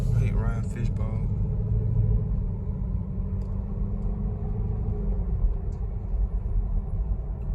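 A 2016 Chevrolet Camaro 2SS automatic driven in sport mode, its engine a low, steady rumble heard from inside the cabin while someone talks over it.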